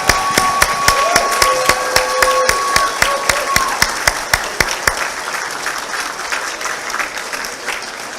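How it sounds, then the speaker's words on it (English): Audience at a white coat ceremony gives a warm round of applause: dense, steady clapping from many hands, loud and close, with a few sharp individual claps standing out and fading slightly toward the end. "let's turn around so this audience can give you a great round of applause"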